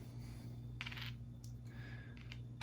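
Small clue tokens for the Arkham Horror card game are set down on a table, giving a few faint, sparse clicks and light clatters over a quiet background hum.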